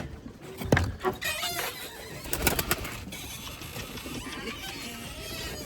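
Erzurum White breeding pigeons coo softly amid close rustling and handling noise, with a sharper flutter or thump near the start.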